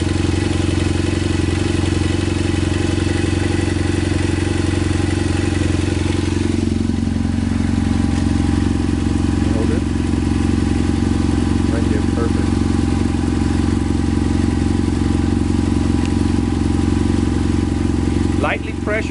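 BMW F800GS motorcycle idles while warming up, a steady, loud low-pitched engine drone that continues throughout with only a slight dip partway through, with no speech over it.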